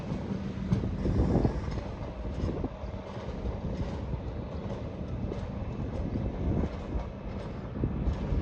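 A train idles at a station platform at Newhaven Harbour on a Sussex branch line, with a steady low rumble and occasional clanks, with wind noise buffeting the microphone throughout.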